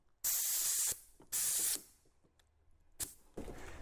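A roloc disc fitted with a coarse Scotch-Brite pad removes old urethane from the windshield frame of an F250 Super Duty, heard as three loud, harsh bursts of high grinding hiss separated by short quiet gaps.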